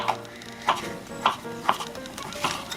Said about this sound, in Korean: 먼저 딱딱한 치즈를 잘라주세요